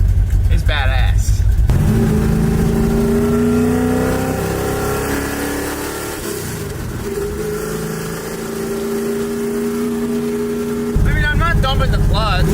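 A loud engine idles with a deep, chest-rattling rumble at a stop sign, the car shaking and the shifter vibrating, its steady harmonic drone swelling slightly in the middle, with talk at the start and end.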